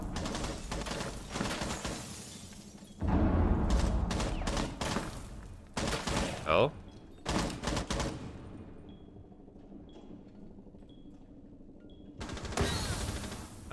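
Bursts of rapid gunfire in the tactical shooter game Rainbow Six Siege, loud volleys broken by quieter stretches, with sharp metallic clatter and small mechanical clicks in between.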